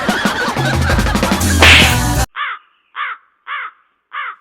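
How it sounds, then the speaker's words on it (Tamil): After a burst of loud music, a crow caws four times alone at a steady pace, each call harsh, nasal and fairly close. "என்னடா காக்கா கத்துது?"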